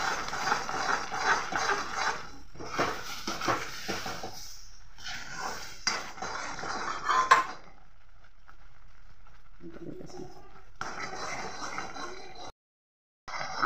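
Thick, sticky raw mango pulp being stirred in a pan for homemade aamsotto, with intermittent scraping and clinking of utensil against metal, pausing and resuming, close and moderately loud.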